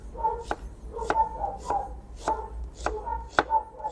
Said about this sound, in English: So we've chopped the onion.